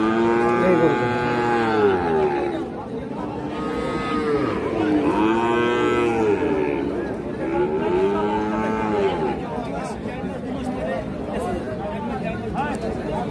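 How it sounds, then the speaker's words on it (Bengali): A bull bellows repeatedly in long, drawn-out moos at a busy cattle market where medium-sized bulls are sold, the calls loud and close over a steady murmur of crowd noise. "এই গরুটা।"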